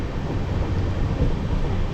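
Paharia Express 15721 passenger train running in heavy rain, with a steady, dense low rumble and rolling wheel noise that holds even and loud throughout, heard from on board.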